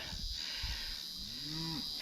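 A single cow lets out a drawn-out moo with a rising then falling pitch, fairly distant and moderately quiet, over an outdoor bed of insect buzz on a hot mid-September afternoon near a pasture.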